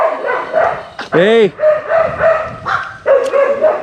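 A dog barks loudly and close by in a few sharp bursts, one a drawn-out yelping bark, mixed in with someone talking over it.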